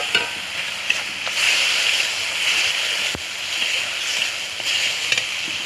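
Tomato goes into spices already frying in a pan, setting off a loud, steady sizzle with scraping stirs and a few sharp clicks throughout.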